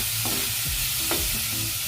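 Ginger garlic paste and tomato get stirred in a pan over a loud, hissing sizzle, with a few distinct scrapes of the spoon against the pan in under two seconds.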